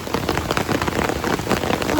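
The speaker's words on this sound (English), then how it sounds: "ओ बारिश तेज हो गई" Heavy rain drums on surfaces during a walk in Canada, a loud, close, dense patter of drops with uneven spattering bursts, no voices heard.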